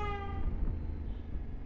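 Vehicle horn sounding in traffic, heard from a motorcycle: a steady blaring horn tone at the start that fades after under half a second, followed by engine and road rumble.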